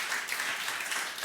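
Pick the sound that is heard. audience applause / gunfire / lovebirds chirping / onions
audience applause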